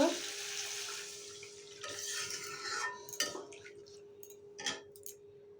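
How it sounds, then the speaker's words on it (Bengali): Water poured into a pan of potatoes and spices to form the gravy for a snakehead fish curry, a soft rushing splash at the start, then faint clinks and small knocks in a quiet kitchen. "এখন আমি ঝোলের জন্য জল দেব"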